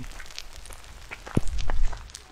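Hail pattering and clacking on a rain jacket and cap during a mountain hike on the Tour du Mont Blanc, scattered sharp ticks growing denser and louder toward the end over a steady wet hiss.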